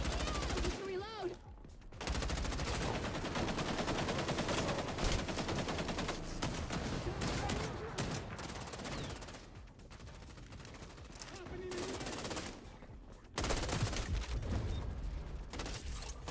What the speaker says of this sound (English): He's using an is like literally using an automatic M16.